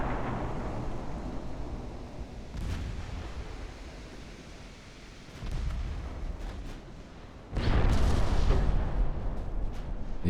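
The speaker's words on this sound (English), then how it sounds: "Ooh, you've taken a torpedo hit." A heavy, deep explosion from a torpedo hitting a battleship in Ultimate Admiral Dreadnoughts booms out loudly near the end, after fainter distant rumbles of naval gunfire and a steady background roar.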